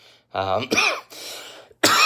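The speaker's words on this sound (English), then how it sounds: "this cough comes up at random" A few rough throat-clearing coughs from a nearby voice, a short burst, a pause, then another harsh cough, with breathy sounds between.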